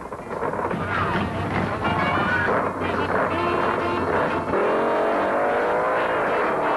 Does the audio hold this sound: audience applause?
no